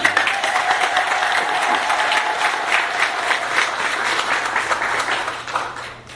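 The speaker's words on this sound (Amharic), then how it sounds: "እስቲ ለእግዚአብሔር ለአምላካቸው አጨብጭቡ" A church congregation applauds during a sermon, a dense, steady clapping that carries on evenly for several seconds before trailing off at the end.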